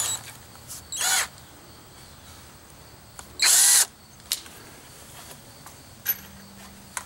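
A power drill drives a 3-inch wood screw with a star drill bit, giving two short, loud whirring bursts, the second longer, amid faint handling clicks in a quiet garage.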